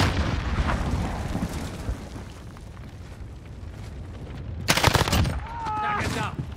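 Gunfire and a grenade blast in a military shooter video game, with a sharp loud burst near the middle followed by more shots, over a busy background of game effects.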